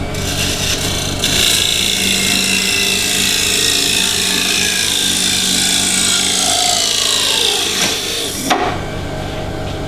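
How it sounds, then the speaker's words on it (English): A parting tool cuts into a spinning walnut piece on a wood lathe, a loud, continuous rasping scrape close by for about eight seconds, shifting in pitch as the cut deepens, then breaking off abruptly. "I'm just going to come in with the parting tool and break it loose"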